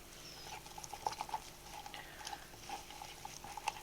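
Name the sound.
stirring glycerin shaving soap mixture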